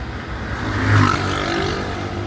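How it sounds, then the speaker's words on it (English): A loud motorbike passes along a road near a Negril beach, its engine swelling to a peak at about one second and then holding a steady drone as it moves off. "is a motorbike. Yeah, loud, right?"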